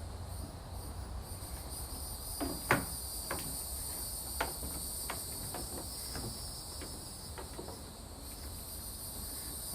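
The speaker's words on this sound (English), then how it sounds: "See that old wood floor that I'm walking on? It's creaking and cracking as I walk." Old wooden floorboards in an 1893 settlement building creak and crack underfoot in sparse, irregular snaps, partly buried beneath a loud, steady chorus of crickets.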